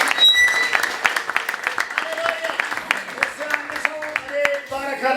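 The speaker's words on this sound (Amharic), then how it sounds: "አጨብጭቡ ለጌታ።" Church congregation clapping for the Lord: a dense run of sharp, rhythmic claps in a reverberant hall, fairly loud and continuous, with a voice calling out over the beat.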